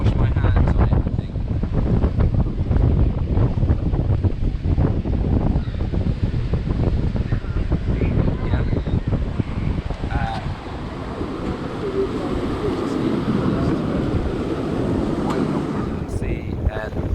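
Strong gusting wind buffets the microphone on an exposed stretch of the Isle of Wight coast, a loud continuous low roar that eases slightly partway through, with the sea and surf faintly beneath.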